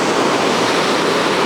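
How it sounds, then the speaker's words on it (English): Powerful sea waves break at Ayrmer Cove in Devon, heard as a loud, steady broadband roar of surf and rushing water with no voices. "They're quite powerful waves."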